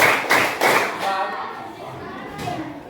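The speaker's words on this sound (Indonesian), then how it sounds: "tepuk dua kali, tepuk tiga kali, tepuk dua kali, tepuk satu kali, tepuk tiga kali" A primary school class claps together in a counted pattern, short bursts of hand claps in groups with brief pauses between them, loud and close in a classroom, followed by a faint voice.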